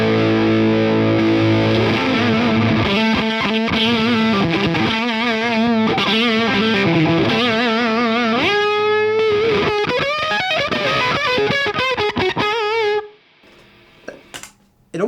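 An electric guitar through a Beetronics boost pedal, set extreme with one control a quarter up and the other full, gives a thick fuzz-like distorted tone over chords and bends, loud and close before fading to a brief quiet tail.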